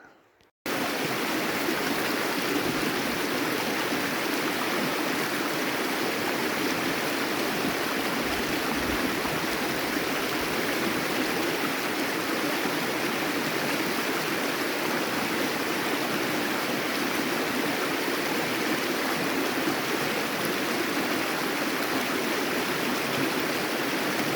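Rushing water of the Snake River near Snake Indian Falls, a steady loud broadband roar that holds unbroken from start to finish with no voices.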